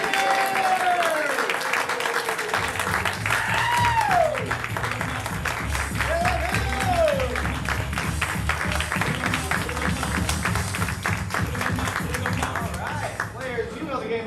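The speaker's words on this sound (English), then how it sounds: "On the count of 3, explode into applause until they all get back here" A studio audience at an improv comedy show bursts into sustained, loud applause that continues unbroken, dense clapping with a few whoops and voices calling out over it.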